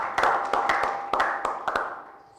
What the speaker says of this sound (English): Please, can you give a clap?